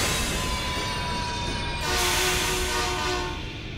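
A train in the video game Gotham Knights rumbles steadily and swells louder midway, with sustained horn-like tones and a faint rail rattle, heard without talking.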